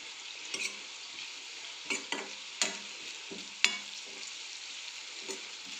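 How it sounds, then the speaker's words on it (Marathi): A spoon stirs carrot stir-fry seasoned with turmeric, chilli powder and masala in a pan, with a soft continuous sizzle under several sharp scraping clinks spaced irregularly across the stretch. "व्यवस्थित त्याला मिक्स करून घ्यायचं आहे."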